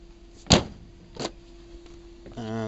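A Gilera Runner 50 scooter seat is unlocked with its original key and lifted open: a sharp click, then a second softer clunk, ending in a steady tonal hum.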